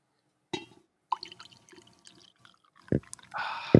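A morning drink poured into a glass or cup, heard as a few brief splashes and trickles with short pauses, closing in a steadier, louder stream near the end.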